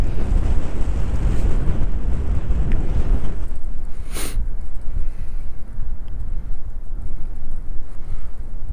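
Strong wind buffeting a microphone on a fishing boat in a terrible gale, a loud continuous roar with heavy low rumble that eases slightly partway through, alongside waves and water noise.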